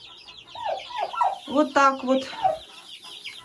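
Chickens cluck and murmur close by in a henhouse bedded with fresh hay, a quick series of clucks and squawks, with someone speaking briefly over them.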